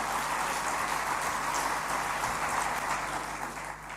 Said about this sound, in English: Can we please give Deputy President a real round of applause